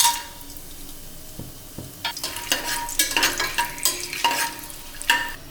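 Cinnamon, cloves, bay leaf and cardamom frying in oil for a pressure cooker vegetable biryani, starting quietly, then growing into lively crackling sizzle with repeated stirring scrapes and clinks of a utensil on the pot.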